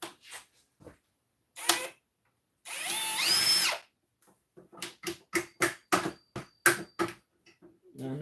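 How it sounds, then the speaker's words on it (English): A power drill bores a rivet hole in a metal tube while a 1973 Superglide is being worked on, with one long whine in the middle and then a run of short, sharp bursts, recorded close up. "I'm just drilling another hole and putting another rivet in the other tube down here."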